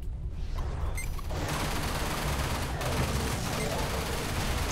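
Turrets fire in the space game Everspace in a continuous dense barrage of rapid shots and booms over a noisy background, loud and unbroken throughout.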